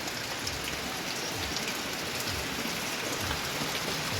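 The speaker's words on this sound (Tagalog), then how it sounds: "Lumakas lalang ulan!" Heavy rain pours down steadily, a dense continuous hiss with no pauses and no voices.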